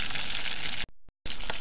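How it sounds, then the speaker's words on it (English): Curried smelt sizzles steadily in a frying pan, a close, even hiss that briefly drops to near silence twice before resuming. "I'm gonna be frying there until it comes brown on one end"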